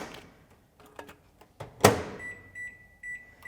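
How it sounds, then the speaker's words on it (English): A microwave oven heating a portion of rice: a few soft clicks and a sharp thump as the door shuts, then a thin steady tone with short beeps, fairly quiet and close by. "Just going to put that into the microwave."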